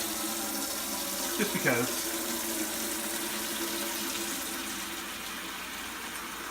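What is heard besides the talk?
kitchen tap running cold water into container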